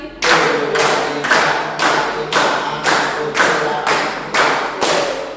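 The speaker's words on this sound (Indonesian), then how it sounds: "Tepuk 1 kali, tepuk 2 kali, tepuk 3 kali, tepuk 10 kali." A school class claps in unison in counted sets, loud, sharp group claps landing in an even rhythm, nine distinct strikes spaced about half a second apart.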